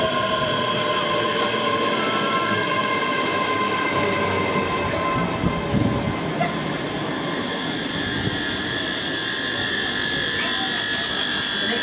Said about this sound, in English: The train arriving at platform 2 is the 1623 service to Glasgow Queen Street.